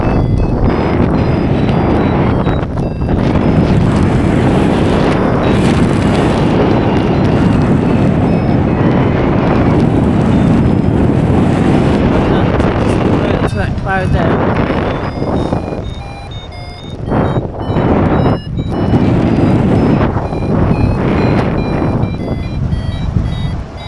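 Loud, steady roar of wind buffeting the microphone while paragliding in a northeast wind, constant for the whole stretch and dipping only briefly, with faint high tones poking through.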